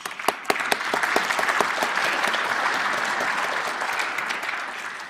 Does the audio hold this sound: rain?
no